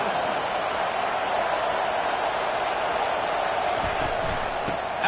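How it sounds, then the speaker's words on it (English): A large college football stadium crowd roars steadily, a dense wall of cheering noise that holds loud and unbroken throughout. "It is getting loud as this crowd tries to help its defense."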